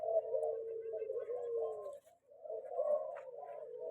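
Spotted doves and zebra doves coo in a steady run of soft, low calls, close and clear with a brief pause midway, recorded at a bird breeder's place in Kebumen, Central Java.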